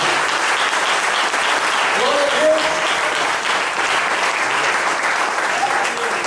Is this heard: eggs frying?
no